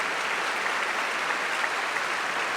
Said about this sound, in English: wild cheering from the audience here at Liverpool Philharmonic Hall